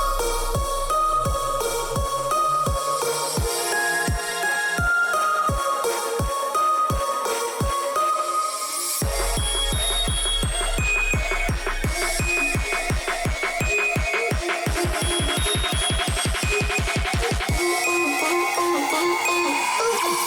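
An instrumental EDM build-up from a track plays without main vocals, with synth chords over a steady kick that speeds into a rapid drum roll before dropping out near the end.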